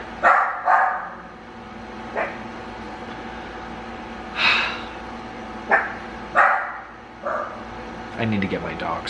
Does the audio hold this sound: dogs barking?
yes